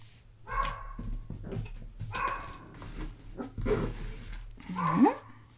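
A dog barks and yips in several short bursts spaced across the clip, close and fairly loud, with some whimpering tones mixed in and no talk.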